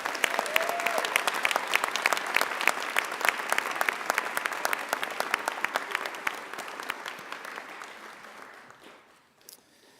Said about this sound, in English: One more round of applause for these deserving awardees.